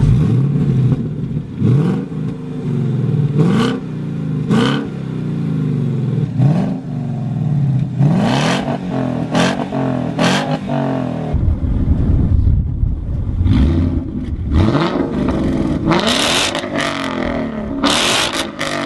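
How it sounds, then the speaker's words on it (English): A car with a 5.0 V8 and catback exhaust revs repeatedly with a deep, throaty exhaust rumble, rising and falling in bursts over a steady loud drone. "I put a simple catback exhaust on that car"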